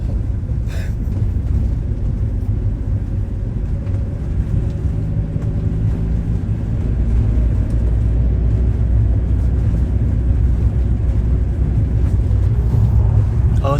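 Inside a moving car, a steady low road and engine rumble fills the cabin, continuous and fairly loud for the whole stretch, with no clear breaks.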